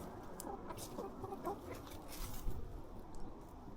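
Chickens clucking softly in a countryside yard, faint and intermittent over a steady background hiss.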